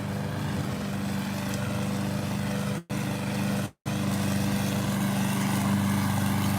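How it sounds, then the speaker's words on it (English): A lawn mower engine drones steadily close by, a constant loud hum broken by two brief dropouts, with no one talking over it. "Sorry, guys, I got to get past the lawnmower here."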